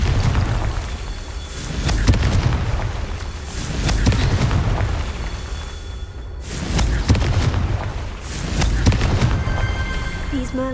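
The Confringo fire spell blasts in Hogwarts Legacy, a series of deep, loud booms that swell and fade in waves with rumbling decay between them.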